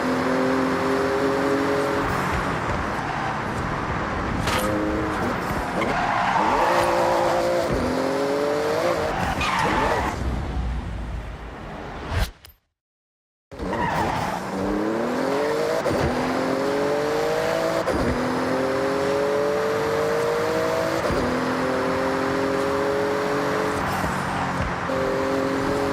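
A Porsche in the Forza Horizon racing game roars through a speed zone, its engine climbing through repeated upshifts with tire squeal and skidding. It stays loud and near, breaks off in a brief silent gap, then resumes revving.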